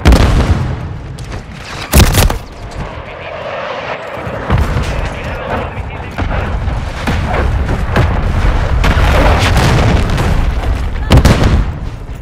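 Grenade blast in Modern Warfare 3 multiplayer on the Sub Base map, a loud booming burst near the start amid constant dense battle noise of gunfire and rumble, with a second heavy impact toward the end.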